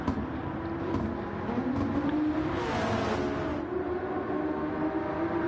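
A GT-class race car engine revving in a racing video game round at Road Atlanta, a loud sustained engine drone with rising and falling pitch and a brief whooshing surge midway, without talk.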